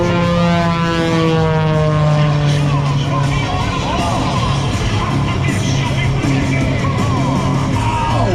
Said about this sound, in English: you hear the engine. Even it sounds like it's complaining about the way he's flying right now